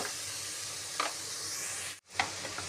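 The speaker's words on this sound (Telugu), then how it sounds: "దీన్ని అయితే ఒక 5 నిమిషాలు మంచిగా నూనెలో ఫ్రై చేయాలి." Shredded cabbage frying in hot oil in a pan over a gas flame, a steady bright sizzle with occasional stirring scrapes and a brief pause.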